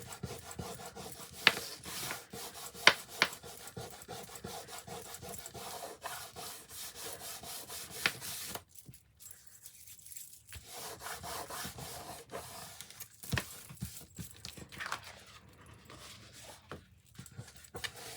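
Material on a craft project is rubbed away with repeated scratchy rasping strokes, fast and dense at first, then softer and more scattered, heard close with no talking.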